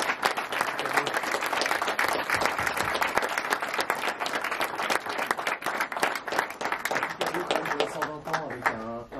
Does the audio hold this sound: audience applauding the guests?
yes